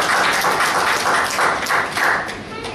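A church congregation applauds during a Chinese-language sermon, steady clapping swelling in several bursts across a few seconds, with no speech over it.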